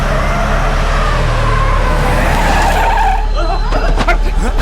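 A bus brakes hard in a film scene. Its tires let out a long, loud skid and squeal that grinds on for several seconds over a heavy low rumble, then gives way to scattered clatter at the end.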